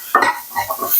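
A brief, close scrape-and-stir of a chicken gravy base being sautéed in a pan, a couple of quick utensil strokes with light sizzling.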